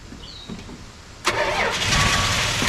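A 1980 Dodge D100 with a stuck starter, low uneven cranking that abruptly jumps into a louder, sustained engine roar with a continuous whirring drone on top, close up and without speech.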